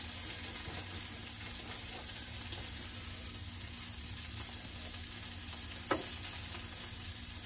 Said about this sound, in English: I also have this skillet heating up for my eggs.